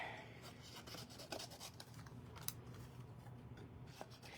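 Paper being fussy cut with scissors at a crafting table, producing faint repeated snips and soft rustling of paper, quiet and close with no talking.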